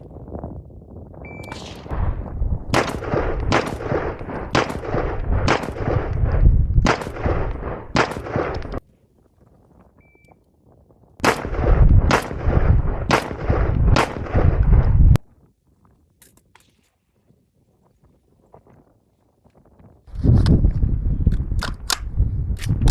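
A SCAR H rifle fires strings of rounds at several targets outdoors, loud sharp reports in rapid, uneven bursts, separated by pauses between strings.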